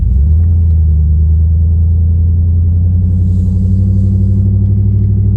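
A 2003 GMC 2500HD pickup idles low and steady, rumbling close by as it slowly reverses down a driveway, a continuous deep engine drone with no speech.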